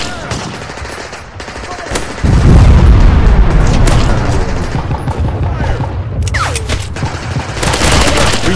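Heavy gunfire in a combat game: dense, loud bursts of machine-gun and rifle fire crackle continuously, with booming impacts throughout and a sharp intensification after the first couple of seconds.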